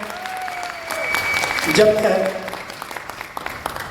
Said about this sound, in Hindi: नेपाल के साथियों के लिए एक जोरदार ताली होनी चाहिए